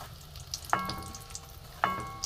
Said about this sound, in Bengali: দুটো দিয়ে দিয়েছি কড়ায়, আর একটা আমি পাশে দিয়ে দেবো। এটাই জল ছিল মনে হয়, ওই জন্য চিটকাচ্ছে।